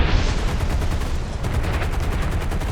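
Fighter plane guns fire in the War Thunder video game as rapid, dense bursts. The sustained rattling is loud and close and keeps going across the whole short stretch, with no talk.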